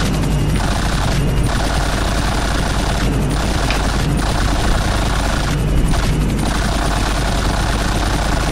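Machine-gun fire aimed at an airplane in the video game GTA IV: repeated rapid bursts of automatic gunfire over a constant loud engine drone, with no talking.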